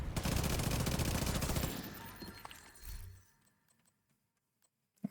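A grenade launcher fired in a shooter video game, giving a loud burst of blasts and crackling debris that fades out over a few seconds into near silence.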